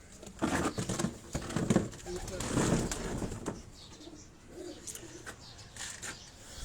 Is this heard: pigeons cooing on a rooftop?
yes